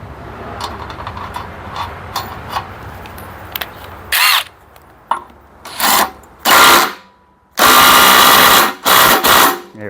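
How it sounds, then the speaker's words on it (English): Power tool bursts tightening a nut on a vintage Firestone lawnmower, several short whirring runs that grow longer and louder toward the end, close by, after quieter handling noises with no talk. "Now, Sean, you're supposed to torque that nut down there."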